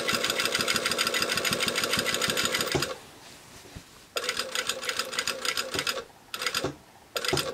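A sewing machine running a basting stitch on jeans, a fast loud rhythmic clatter in several bursts with short quiet pauses between them, close up.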